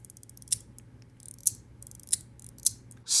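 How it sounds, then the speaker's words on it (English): A small Leap by Proxy EDC haptic fidget toy clicks as its ball hops and snaps into place, giving a few crisp, close ticks spaced about a second apart over a faint background hum. "this really satisfying little hop of this ball, and it kind of clicks into place"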